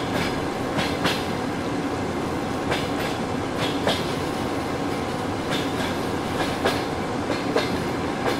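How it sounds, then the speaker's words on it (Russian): A train runs along the rails, as its driver nears Pshekhskaya station, with a steady loud rumble and regular clickety-clack wheel beats recurring every second or so. No voices are heard. "Машинист поезда номер 104 на подходе к станции Пшехская."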